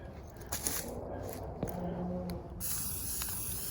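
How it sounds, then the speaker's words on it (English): A spray paint can hisses in short bursts and then a longer steady spray, fairly close, outdoors in a garden, with faint background noise between the sprays. "So spray painting the outside."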